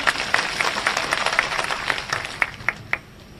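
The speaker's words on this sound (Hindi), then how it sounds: "जरा जोरदार ताली बजाओ तो एक बार।" Crowd clapping at a political rally in Madhya Pradesh, a steady spread of handclaps with a few sharper claps standing out near the end, moderately loud with no talk over it.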